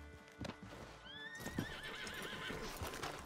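A horse in Red Dead Redemption 2 whinnies loudly in a long, wavering call, with hoof clops and rustling movement around it.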